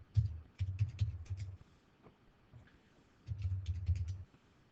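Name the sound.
typing on a computer keyboard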